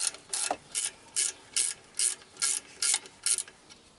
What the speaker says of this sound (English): 14mm on this lock nut here. Undo that.